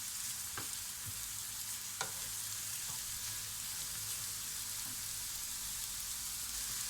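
Spinach sizzles and crackles steadily in a hot pan while being sautéed for a spinach-and-noodle börek, with a few brief stirring clatters near the start and no talk.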